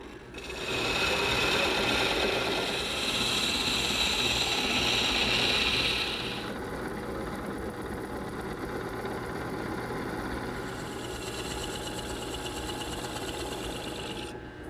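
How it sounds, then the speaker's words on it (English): A steady mechanical whir with a faint ticking rhythm, a wood lathe turning a table lamp at 300 RPM, with a higher whine that drops away partway through. "The larger the turning, the slower the RPMs of the lathe. Here I'm only at 300 RPMs."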